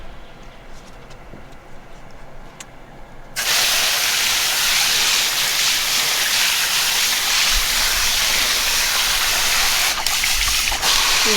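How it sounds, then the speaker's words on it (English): Water rinsing a pleated rainbow tie-dye t-shirt: a quieter trickle gives way after a few seconds to a loud, steady gushing spray of running water that continues to the end. "Here to rinse out another t-shirt."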